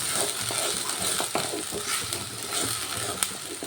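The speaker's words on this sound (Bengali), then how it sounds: "লঙ্কা গুঁড়োটা দিয়ে একটু ভালো করে কষিয়ে নিতে হবে" Kashmiri chili powder fries in an onion-tomato paste while a spoon stirs and scrapes the pan, bringing a soft, continuous sizzle broken by irregular clicks and scrapes.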